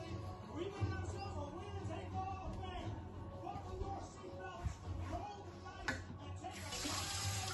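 Water runs from an indoor tap into a sink, a soft continuous trickle and splash while people talk quietly nearby during a painting session with a child.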